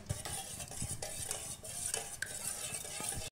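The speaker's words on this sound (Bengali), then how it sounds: "আমি এই হ্যান্ড উইক্স দ্বারা 2 মিনিটের মতো ডিমটা ফাটিয়ে নিচ্ছি।" Eggs being beaten with a hand whisk in a bowl for a soft fruit cake, giving rapid, irregular clinking and scraping strokes, close and fairly loud, with no talk.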